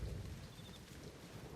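A thunderstorm with rain from the film Interstellar rumbles low and steady, with a soft wash of rainfall throughout, quiet and distant and with no voices.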